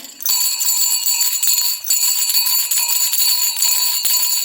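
Small bells jingle continuously and brightly, close by, with a few sharper shakes punctuating the steady ringing.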